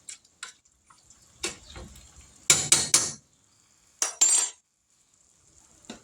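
A metal spoon clinks and scrapes against a pot while stirring peas cooked with bacon grease, a few sharp, close taps in irregular bursts separated by quiet gaps.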